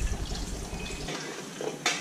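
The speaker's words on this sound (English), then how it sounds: "I'm just going to add in a splash of red wine and a bit of water" Red wine and water poured from a cider can into a camp oven holding a lamb rack, a short wet splashing and trickling pour, close and fairly loud, with no talking.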